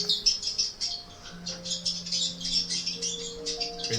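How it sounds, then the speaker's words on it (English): Small birds chirp and squawk in quick repeated bursts, bright and fairly close, playing from a bird video with a faint steady tone beneath and no talking. "Bird."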